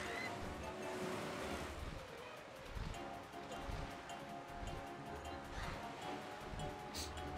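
Ocean waves from the video game The Legend of Zelda: The Wind Waker HD wash and surge continuously at low level, with a windy hiss and a faint tonal background.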